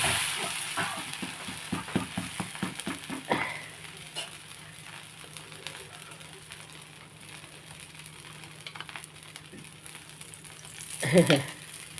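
Oil sizzling in a pan on low heat while minapattu (urad dal dosa) cooks, a steady soft frying hiss with a brief burst of rhythmic clatter at the start and a louder flare near the end.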